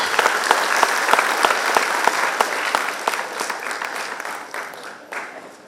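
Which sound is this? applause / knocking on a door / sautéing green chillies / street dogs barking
applause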